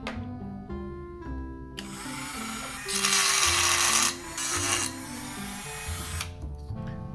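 A handheld Dremel rotary tool grinds out a Baby Alive doll's plastic head, a high whining motor buzz that rises into louder bursts of grinding near the middle, fairly close with no talking.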